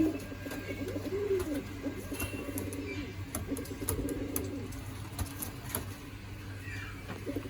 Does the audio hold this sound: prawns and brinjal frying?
no